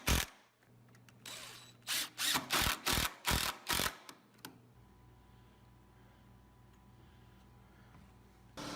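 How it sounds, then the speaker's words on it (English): A power drill drives pocket screws into a wooden garden bench frame in a rapid series of about eight short whirring bursts, close and loud, followed by a quieter steady hum. "There are lots of ways to attach a frame like this together, but nothing really beats the speed of pocket screws."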